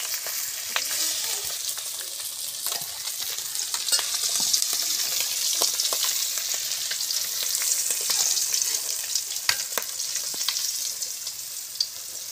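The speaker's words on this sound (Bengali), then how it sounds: "মাছ ভাজার তেলে এই যে সম্বার দিয়ে দিলাম" Pieces of fish fry in hot oil in a pan, a continuous loud sizzle dotted with sharp crackles and pops all the way through, with no talking.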